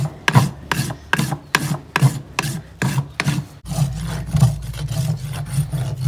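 Excess glue is rasped off a glue-on plastic clog on a horse's hoof in firm, rhythmic strokes, about eight distinct passes, followed by faster, denser scraping, all loud and close.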